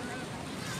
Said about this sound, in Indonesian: ombaknya lagi pasang